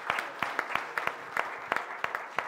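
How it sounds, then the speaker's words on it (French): Sparse applause from a conference audience for panelists: a thin scattering of separate, fairly close claps in an irregular rhythm, with no talking. "Des applaudissements pour les panélistes."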